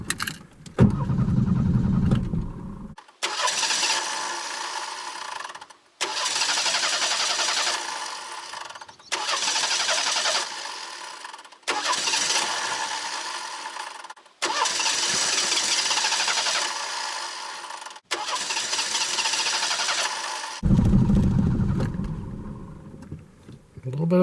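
A 1989 Ford Mustang that has sat for eight years cranks repeatedly in several long bursts, its starter grinding in rhythmic cycles with pauses between, and the engine briefly catches at the start and end.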